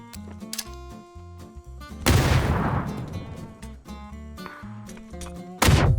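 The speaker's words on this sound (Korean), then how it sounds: "아 이거 수류탄 제대로 들어갔네" A grenade blasts in PUBG Battlegrounds with a sudden loud burst that decays into a long rumbling tail. A second sharp blast follows near the end, both rising over tonal background music.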